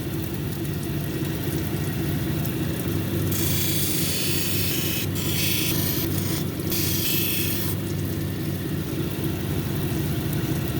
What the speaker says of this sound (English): I ground away towards the center